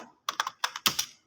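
Quick bursts of computer keyboard typing, two short clusters of crisp key clicks, close and fairly quiet with no talking.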